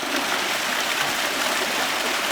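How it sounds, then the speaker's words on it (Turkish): Ice-cold water flows out of a cave at Hadim, a steady rushing babble of a stream heard continuously and fairly close, with no voices. "Karşıda yine gelen mağaradan gelen buz gibi şırıl şırıl sular var."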